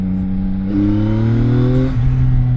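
A CFMOTO 675NK three-cylinder motorcycle accelerating at full throttle, its engine note climbing steadily through a gear before a brief dip and renewed pull, loud and close, with no talk.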